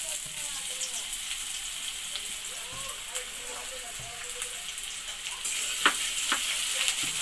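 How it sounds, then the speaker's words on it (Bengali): Chopped ginger and garlic fry in hot chicken oil with a steady close sizzle and crackle, and a voice talks over it. "প্রথমে আমরা এই আদা রসুন যে কুচনো রয়েছে ওটা আমরা তেলের মধ্যে দিয়ে দিলাম।"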